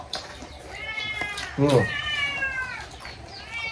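A cat meows once, loud and close, amid a lively Mother's Day gathering, with people talking in the background and a high whistling or singing tone throughout.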